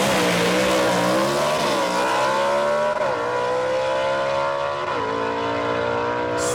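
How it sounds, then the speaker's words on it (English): A small-block gasser drag race car launches and accelerates down Shadyside Dragway, its engine screaming through rising gear pulls with brief drops at each shift, loud and continuous. "Let's listen to a professionally tuned and driven Gene Fulton small block get down this racetrack."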